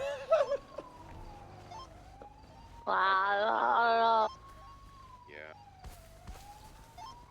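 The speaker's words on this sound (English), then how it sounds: "Can someone turn that freaking siren off" Wailing police car siren in a video game, rising and falling steadily beneath a casual voice chat, with a louder harsh burst in the middle and a brief spoken word.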